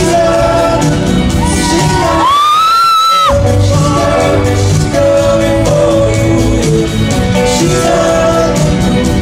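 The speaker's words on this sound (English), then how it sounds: "Sorry for my loud screaming in the video." A fan screams at a concert, one loud rising shriek standing out briefly over the constant roar of a cheering crowd and amplified music.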